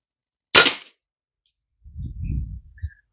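A single sharp crack from a .22 Kral Arms air rifle shot, close and brief, followed about a second later by a short low rumbling thud with faint ringing.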